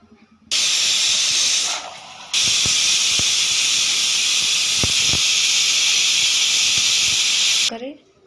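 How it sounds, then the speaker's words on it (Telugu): A pressure cooker on a gas stove vents steam in a loud, sustained hiss for about seven seconds, broken by one short dip, with a few faint clicks underneath before it cuts off. "ఇలా గ్యాస్ మీద 3 విజిల్స్ వచ్చేదాకా పెట్టాలి"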